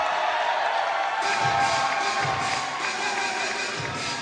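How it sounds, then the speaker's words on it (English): Home fans at a Cal Baptist college basketball game against Dixie State cheer loudly and continuously, a dense roar of voices and whoops filling the arena without pause. "this is certainly a vocal crowd, and they've had a lot to cheer for"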